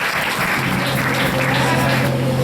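A church congregation claps loudly and continuously at an evangelical service, the dense applause running the whole time with a sustained tone and voices underneath.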